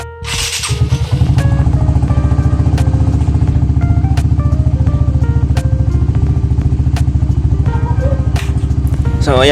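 A fuel-injected motorcycle engine cranks and catches, then settles into a loud, rapid, even idle with sharp mechanical clicks and ticks over the steady putter.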